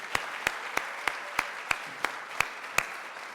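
About nine sharp claps land at a steady, slow rhythm at a teacher appreciation awards ceremony, fairly quiet and slightly distant, with nothing else around them.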